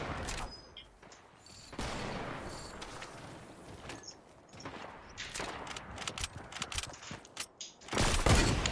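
Sniper rifle gunfire in a first-person shooter, heard as a series of sharp, separated cracks with quieter stretches between them and a loud final shot near the end.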